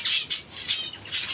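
Pigeons in a big cage give four sharp, close squawking calls, spaced irregularly over a quiet background.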